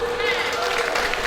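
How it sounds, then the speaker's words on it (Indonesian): Audience applause at a school farewell ceremony for Year IX MTs and Year XII MA students: a steady, dense wash of clapping that holds at an even level throughout, with a faint tonal hum underneath. "Tepuk tangan, Bu."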